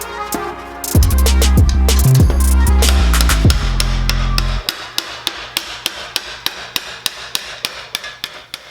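Hammer blows on a Ford F100 cab sheet metal panel being stretched, first a ringing clangorous run of strikes, then a long series of sharp evenly spaced taps, loud and close.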